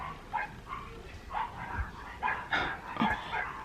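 A loose dog barking outdoors, giving a series of short, mid-distance barks and yips at irregular intervals.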